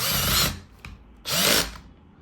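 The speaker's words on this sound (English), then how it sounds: "we're just gonna screw them in a cross fashion" A power tool drives screws into an Audi airbag cover in two close, loud bursts of whirring, each about half a second long, with a short pause between them and no talk.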